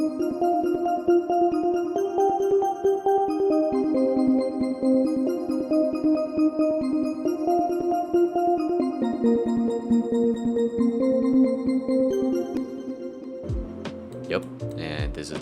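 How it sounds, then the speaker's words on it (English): A soft synth arpeggio with a chorus effect ripples steadily in a mid-range melodic pattern for most of the stretch, then gives way to a brief burst of fuller beat elements at the very end. "This ARP is for the chorus effect"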